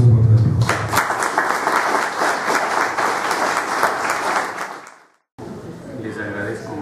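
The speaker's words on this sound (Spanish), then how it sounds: "Vamos a recibirlo con un caluroso voto de aplauso." Warm applause from a university audience welcoming a speaker at a book presentation, dense and loud for about five seconds before cutting off abruptly, followed by a voice speaking.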